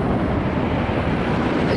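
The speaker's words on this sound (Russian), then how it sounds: "очень дует такой снежный, такой холодный снежный ветер" A cold, snowy wind blows hard across the microphone in a steady, dense roar, loud and close with no talk.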